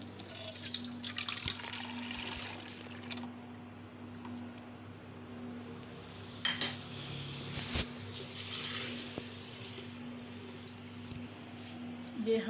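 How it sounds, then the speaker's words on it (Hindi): Water poured into a cooking pot for kadhi pakora in a home kitchen, a steady moderate splashing trickle throughout with a few louder splashes, close by. "ब्लेंडर के जग में पानी डाल के इसमें मज़ीद पानी डाल देंगे"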